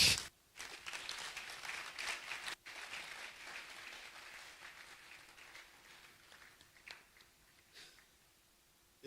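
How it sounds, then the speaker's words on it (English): Scattered, fairly faint applause from a conference audience at a hotel in Koforidua, a thin patter of clapping that tapers off quietly. "the applause is weak"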